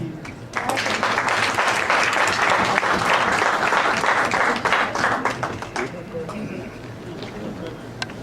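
An audience at a 2018 poetry recital in Montreal welcomes poet Rasheed Nadeem with loud, dense applause that swells in after a brief voice and then gradually thins and fades.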